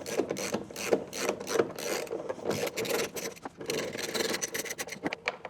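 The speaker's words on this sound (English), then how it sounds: "just get a big, nice socket wrench, and we can pull those off." A socket wrench loosens 8mm bolts on a 2013 Ford Escape rear brake light housing, giving rapid ratcheting clicks and rubbing scrapes close by in uneven bursts, with no talk.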